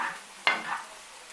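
Food is stirred in a sizzling frying pan, with a soft steady sizzle and one sharp scrape of a utensil near the middle, close and quiet.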